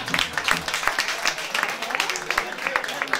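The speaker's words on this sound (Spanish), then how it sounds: "Veo por vuestros aplausos que nos dais la aprobación." An audience at a jazz concert at Bogui Jazz applauds, a dense and steady patter of many hands clapping close by, with a few sharper claps standing out, lasting the whole stretch.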